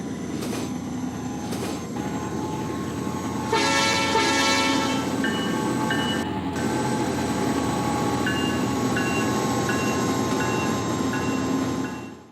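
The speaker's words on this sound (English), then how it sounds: "Led by an NS SD-70 Ace, the train thunders through CP Franklin" A freight train led by an NS SD70ACE locomotive rumbles steadily past in the game Trainz, with a blaring horn blast partway through, wheels and cars rolling on in a continuous heavy roar.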